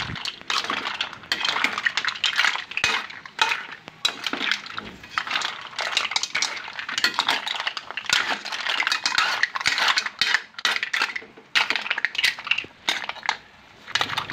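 A ladle scoops mussel soup with ginger from a pot. Repeated scraping clatter and shell clinks come in an uneven rhythm with liquid sloshing underneath, close up, and there is no talk.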